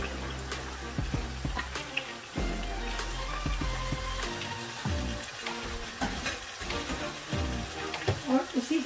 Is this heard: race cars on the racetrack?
no